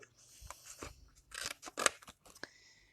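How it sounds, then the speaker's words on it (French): Scissors snip by hand through paper, cutting out a paper ink bottle shape in a quick, irregular run of close, crisp cuts and rustles. "je vais découper mon encrier"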